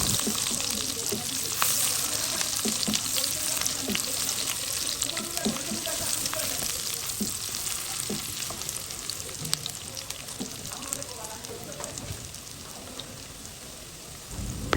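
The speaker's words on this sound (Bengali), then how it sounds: "এবার ভালো করে পেঁয়াজের সাথে এগুলাকে আমি মিক্স করে ভেজে নিচ্ছি।" Onions frying in oil with cardamom pods, a clove and a bay leaf for chicken roast, a steady soft sizzle with scattered small pops and stirring scrapes throughout.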